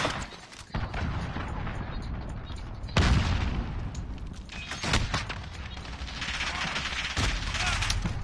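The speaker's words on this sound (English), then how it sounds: "Allied cruise missile launched." Cruise missile strike in a Call of Duty game: heavy rumbling blasts and booming impacts over sustained noisy battle sounds, with a sharp loud hit near the middle and scattered bursts throughout.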